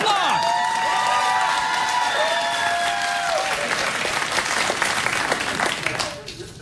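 A late-night talk show studio audience breaks into loud applause with cheers and whoops, voices shouting over the clapping, which swells and then fades near the end.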